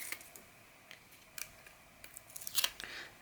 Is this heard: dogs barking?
no